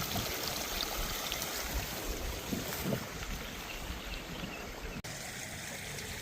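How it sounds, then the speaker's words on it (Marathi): Water from a stream mixed with water released by a farmer rushes through a farm channel past fields, a constant full wash of flowing water, close and steady, ending in a brief abrupt cut. "वड्याचं पाणी प्लस शेतकऱ्याने सोडलेलं असं मिळून किती पाणी चाललंय बघा"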